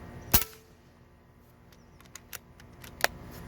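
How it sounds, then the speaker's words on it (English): An Umarex Origin pellet rifle fires at a plywood target, giving a sharp, loud report near the start followed by a few fainter ticks and one more crisp snap near the end, with no talk. "Now I'm gonna shoot the piece of plywood."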